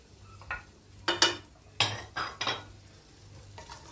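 A spoon stirs tomatoes and carrots in a cooking pot, making several scraping, clinking strokes against the metal with short pauses between them, fairly close and moderately loud, over a faint background hum.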